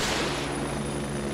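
A helicopter in a multiplayer military shooter game flies overhead, a steady low rotor drone with a faint high whine, heard continuously and fairly distant.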